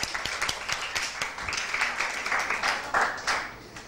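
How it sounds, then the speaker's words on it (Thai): Classmates clap for a student in a high school science class, a brief round of scattered, moderately faint hand claps. "เอาปรบมือเพื่อนหน่อย"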